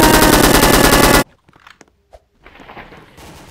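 Rapid automatic M4A1 rifle fire in the Roblox game Area 51, one loud continuous burst lasting just over a second, then cut off, followed by quiet scattered clicks and soft game noise.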